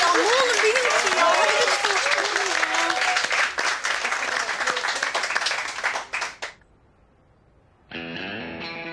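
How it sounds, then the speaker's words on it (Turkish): An audience bursts into loud applause for a singer, dense clapping and cheering that fills the space for about six seconds, then cuts off to near silence before sustained music begins. "Alkış, alkış."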